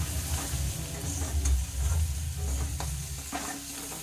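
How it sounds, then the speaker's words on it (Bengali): Potatoes being stirred with salt and turmeric in a pan for a vegetarian aloo dum, a steady sizzle with a heavy low rumble and occasional spatula scrapes, close and moderately loud, no voices. "লবণ আর হলুদ দিয়ে এটাকে ভালো করে নেড়েচেড়ে মিশিয়ে নিচ্ছি।"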